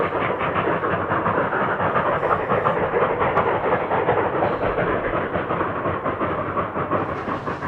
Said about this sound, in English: slowly fly towards the oncoming train, arriving at the same time as the locomotives take the left-hand curve towards Dalton Crossing